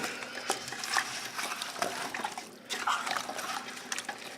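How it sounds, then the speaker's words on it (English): Chicken and vegetables being stirred together with a poured sauce, giving a wet, slurping churn of liquid with light scraping and clicks, steady and close for a few seconds with no talk. "we're going to stir it all around together to make sure everything's coated"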